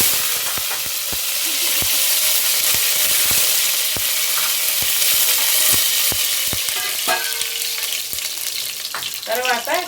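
Cumin seeds and curry leaves sizzle and crackle steadily in hot oil for a chicken fry, with a dense frying hiss, scattered sharp pops throughout, and a few brief stirring scrapes near the end.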